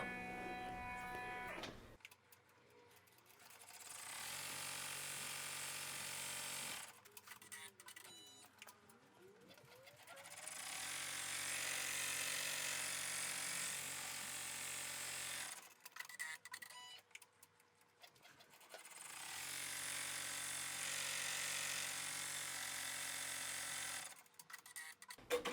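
An embroidery machine stitches down Velcro on an in-the-hoop bear's Easter outfit, with steady, fast needle chatter running in long stretches and broken by short pauses.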